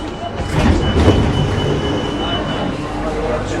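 A Rome metro train rumbles loudly through a station, its wheels clattering and squealing faintly over a dense, steady roar close by, with voices barely present beneath it.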